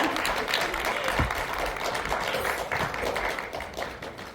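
Applause from an audience at an internet journalism awards ceremony, steady dense clapping filling the room throughout, with a few heavier thumps mixed in.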